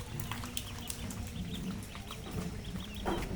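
Desi chickens and ducks pecking at rice on a rainy day, soft clucks and feeding noises mixed with a steady background wash, fairly close, without voices.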